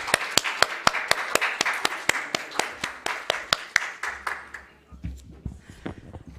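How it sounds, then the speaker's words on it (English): Audience applause at a Seoul learning event welcoming the IOM Kenya program coordinator, a run of sharp, evenly spaced claps that dwindles into scattered taps and a low murmur near the end. "Ladies and gentlemen, please welcome her with a big round of applause."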